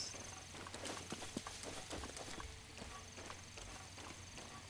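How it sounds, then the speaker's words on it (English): Horse hooves clip-clop in the video game The Legend of Zelda: Breath of the Wild, a faint, steady walking rhythm of hoof beats over a soft ambient background. "I want to catch a horse"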